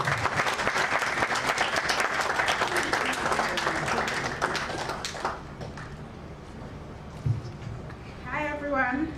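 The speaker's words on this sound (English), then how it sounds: "Can we put our hands together for her?" Audience applause welcoming a speaker onstage at a Lagos meet-and-greet with Governor Babajide Sanwo-Olu, a dense, loud roll of many clapping hands that fades about halfway through, leaving crowd murmur and a voice talking near the end.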